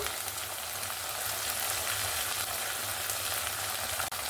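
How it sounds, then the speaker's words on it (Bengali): A paste of cashew, poppy seed and melon seed sautés in oil for fish rezala, giving a steady soft sizzling hiss with faint crackle, continuous and close, with no talking. "এখানে আমি কাজুর পেস্টটা দিয়েও ভালো করে কষিয়ে নিয়েছি।"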